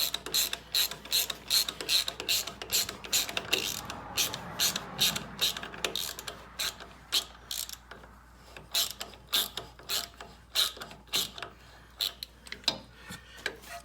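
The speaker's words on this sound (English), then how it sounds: "And we're going to tighten this until those bushings kind of squeeze." A ratchet tightens a sway bar link on a 2013 Chevy Silverado, fast clicking bursts repeating in quick strokes with short pauses between, close and fairly quiet.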